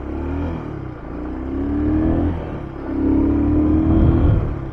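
A roughly 30-year-old XL 185S motorcycle engine drones loudly while riding, swelling in two revving surges over a steady rumble, with no talk.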